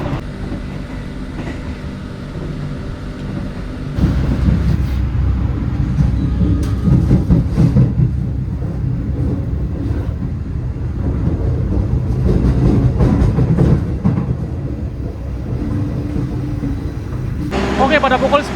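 An Indonesian economy-class passenger train runs at about 97 km/h, with a loud continuous rumble and rattle on the rails. The noise swells sharply after a quieter start, with a clickety-clack rhythm throughout and voices mixed in.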